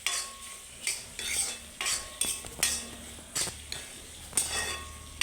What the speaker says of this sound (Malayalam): നമുക്കിതിലേക്ക് ഒരു 1/2 സ്പൂൺ ഗരം മസാല കൂടി ചേർത്ത് കൊടുക്കാം. ഇത് നന്നായിട്ടൊന്ന് ഇളക്കി കൊടുക്കണം.